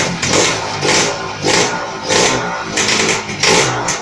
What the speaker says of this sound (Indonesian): kita coba untuk menghidupkan mesin motor